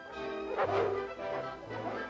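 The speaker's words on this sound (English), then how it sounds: "So let's listen to Bendix, one of our new Army dogs" A German Shepherd army dog gives a couple of short, fairly faint barks spaced apart, heard alone against a quiet background.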